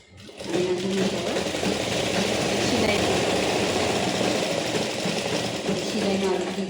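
A sewing machine stitches Patiala pants, running in one continuous, steady mechanical whir close by for several seconds after a quiet start.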